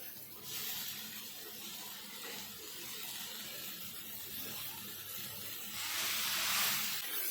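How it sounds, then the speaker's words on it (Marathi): Chopped red amaranth greens hit a hot pan where onion and coriander are frying, giving a soft, steady hiss and sizzle that swells near the end, with no talking over it. "आता ही चिरलेली भाजी आहे ना ही टाकून घेऊया"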